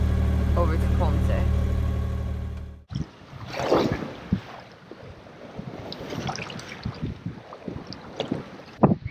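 A sailboat heads back out along the south coast of Puerto Rico, with a loud low wind rumble buffeting the microphone at first, then water splashing and rushing against the hull with scattered knocks and creaks, close by.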